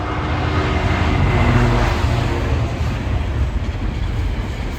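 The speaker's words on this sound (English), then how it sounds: "Let this train go by." A train rumbles past close by a car dealership forecourt, a steady heavy roar with low clatter that holds loud throughout without fading.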